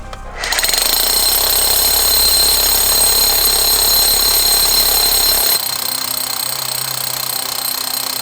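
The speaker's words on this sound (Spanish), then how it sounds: "apretar para adentro para que taladre." A pneumatic rock drill roars and chatters continuously at close range in an underground emerald mine, loud and harsh, its pitch dropping slightly partway through.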